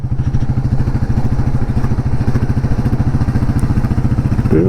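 A motorcycle ridden along a road in cold, rainy weather: a loud, close, steady engine thrum with a fast even pulse and constant low rumble throughout, no talking.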